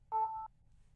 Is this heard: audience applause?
no